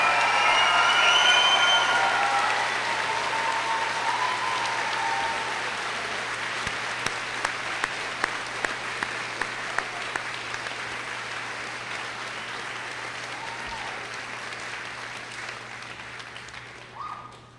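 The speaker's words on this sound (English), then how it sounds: "Let's give a big round of applause to our 2021 graduating seniors." Graduation ceremony crowd applauding the 2021 graduating seniors, a loud sustained round of clapping that slowly fades, with a few sharp individual claps near the end.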